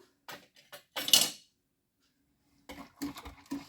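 A spoon stirs yeast, sugar and salt into warm water in a bowl, giving a few close clinks and scrapes in two short bursts separated by a quiet pause.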